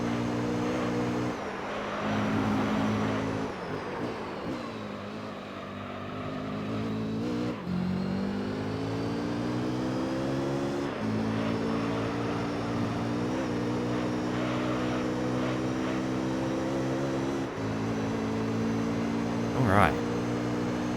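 A race car engine in the Gran Turismo Concept PS2 racing game at Mid-Field Raceway drones and revs continuously, rising and falling through gear changes, with someone talking over it throughout.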